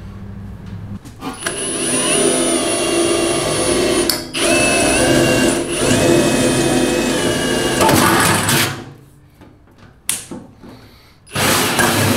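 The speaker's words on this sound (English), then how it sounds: "we're going to use a big hole saw. This is a 3-inch. And we're going to put a hole in it." A 3-inch hole saw cutting into a gas tank, a loud continuous whining drill grind that runs for several seconds, breaks off briefly, then resumes in short bursts near the end.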